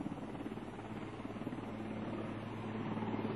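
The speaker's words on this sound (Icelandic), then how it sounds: "Þá þyrlunni ekið í flugtaksstöðu" Rescue helicopter taxiing to its takeoff position, a steady close rotor and turbine drone holding an even level throughout with no voices.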